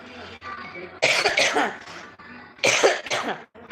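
A person sick with cold, cough and fever coughs hoarsely and close in several rough bursts, loud and raspy, with throat clearing mixed in.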